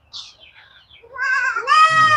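A farm goat bleats loudly and close by, giving a wavering cry that rises into a second, stronger bleat after a few faint soft sounds.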